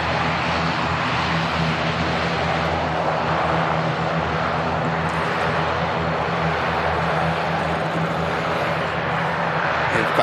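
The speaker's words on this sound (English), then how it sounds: "EasyJet there, just on the taxi over to the second runway here at Manchester." EasyJet airliner taxiing at Manchester Airport, a steady loud engine roar and whine holding evenly throughout, with some talk underneath.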